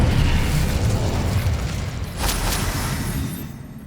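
A blast from the Incendio fire spell in a Harry Potter video game, a heavy rumbling burst that swells and slowly fades, with a brief sharper crackle midway, loud and alone.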